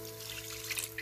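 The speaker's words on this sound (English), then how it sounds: "I am going to put a little bit of water in there" A short, soft trickle of water is poured into a pot of chana dal with blended spices, a gentle steady splash heard close and alone.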